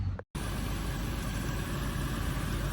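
A Land Rover's AC compressor kicks in while the refrigerant is recharged, a steady engine-like hum and drone after a brief cut at the start, running continuously at moderate level without talk.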